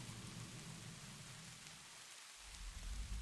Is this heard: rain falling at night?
yes